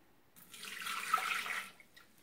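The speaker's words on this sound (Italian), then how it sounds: "Andiamo a unire l'acqua" Water poured into a Thermomix TM6 jug while making mint syrup, a steady hissing splash that builds and then tapers off over about a second and a half, close and alone.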